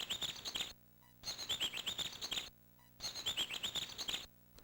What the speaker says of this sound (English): you're going to have a chirping bird that will get on your nerves